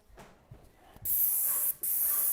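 Paint sprayer hissing onto kitchen trim: two steady, loud bursts of fine airy spray, separated by a brief pause, after a quiet lead-in.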